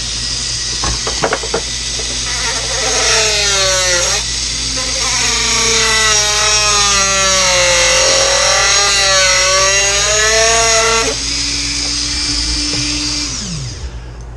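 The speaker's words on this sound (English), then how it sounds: "Then we're going to take our super duper cutting wheel," A cutting wheel on a power tool whines as it slices off a metal shaft, its pitch rising and wavering under load for several seconds, then settling into a steady tone before winding down; a few sharp clicks come first.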